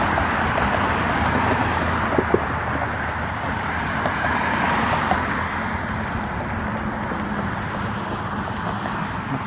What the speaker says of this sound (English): You may not be able to hear me because all the cars